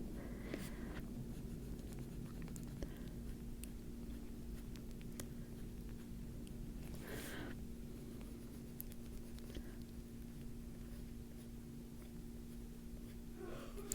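Pencil tracing and adding eyelashes on paper in a fantasy drawing, giving a soft, steady, close scratching that runs throughout over a low constant hum, with no talking.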